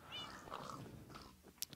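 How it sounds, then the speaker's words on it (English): A Minecraft cat gives a short, soft meow, followed by a faint click near the end. "We have a cat."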